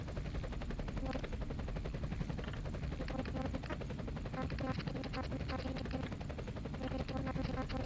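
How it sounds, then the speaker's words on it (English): Quadcopter boss in the video game Donut County, flying overhead with a steady, dense whirring drone and rapid rhythmic pulses that continue loud and unbroken throughout, with no talking. "this quadcopter here, guys, is basically our boss battle"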